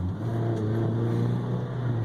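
A 2000 Toyota Celica GTS 6-speed with an aftermarket exhaust runs steadily at a smooth low idle, its engine hum close and constant with no revving and no talking.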